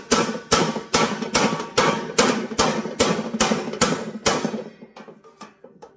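Stud welding of a stainless steel stud into color steel tile sheet: about eleven sharp, loud, evenly spaced bursts roughly half a second apart, each with a ringing metallic tail, fading at the end.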